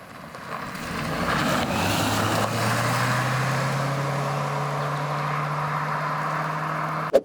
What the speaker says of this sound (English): driving the Corolla Cross